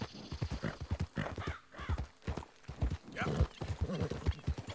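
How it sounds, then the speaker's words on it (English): A horse in the video game Red Dead Redemption 2 clops along with rapid, steady hoofbeats, and whinnies and snorts recur up close throughout. "probably should feed this horse."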